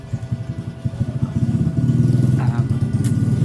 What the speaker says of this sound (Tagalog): pasensya na sa ingay ng motor.